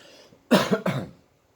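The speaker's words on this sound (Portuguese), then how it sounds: "Aí eu vou dar uma tossida aqui." Two quick, close coughs from a man, a short harsh pair in a quiet room.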